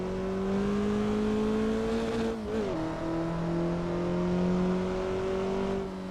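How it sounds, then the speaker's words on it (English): A Mazda MX-5 in a racing simulator game drones with a steady, loud engine note throughout. The pitch holds, dips briefly as if shifting gear partway through, then settles and climbs gradually again, with no voices. "This is a Mazda MX-5."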